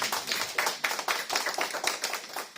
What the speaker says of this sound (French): Soyez bienvenus, on applaudit.